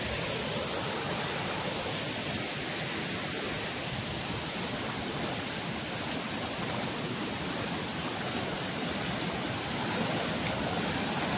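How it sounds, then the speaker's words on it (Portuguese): A tall waterfall at Vale das Ostras pours into a rock pool, giving a steady loud broadband roar of rushing water that never lets up, close by and alone. "Essa queda aqui já forma uma das piscinas."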